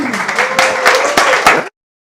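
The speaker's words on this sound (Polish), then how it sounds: "Może brawo w takim razie." An audience at a Poznań Elixir meetup claps warmly before a talk, with dense applause and a few sharper claps, then it cuts off abruptly into silence.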